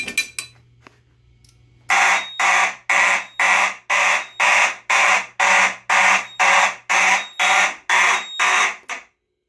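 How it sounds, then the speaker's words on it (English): Fire alarm horns in a shed alarm system test sound in march time, a brief faint chirp first, then a fast, even series of about fourteen loud, harsh pulses close by. "we'll hear march time on the horns here"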